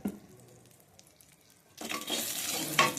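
Cashews frying in ghee, quiet at first and then a loud burst of sizzling hiss as they hit the hot fat, with scraping stirring sounds close by.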